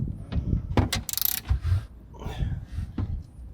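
Quick ratcheting clicks from a socket wrench nipping up fasteners on a motorcycle coolant system, close by, with a burst of rapid clicks among clanks of metal handling and tools.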